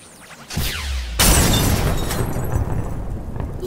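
A house blown apart by a Daybreak: a loud boom erupts, then a sustained roaring, crackling rumble of destruction that carries on without fading, with no talking.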